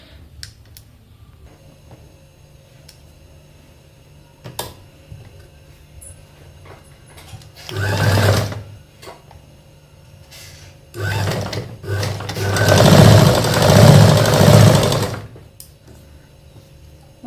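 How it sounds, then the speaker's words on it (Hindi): A sewing machine stitches pieces of a one-dart blouse along a marked line, running in two bursts: a short one, then a longer, louder stretch with brief pauses, against a quiet room. "उसी निशान के ऊपर सिलाई करते हुए आएंगे"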